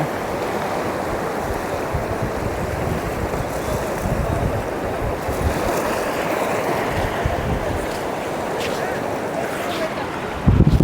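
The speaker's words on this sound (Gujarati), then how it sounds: "આગળ મોજા કેટલા મોટા મોટા ઉછળે." Continuous roar of stormy ocean surf at Uncha Kotda, waves churning and breaking with heavy wind noise, loud and unbroken throughout.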